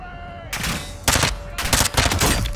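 Rapid automatic gunfire in Modern Warfare II, three loud close bursts separated by short pauses, with a faint tone and ambience in the gaps.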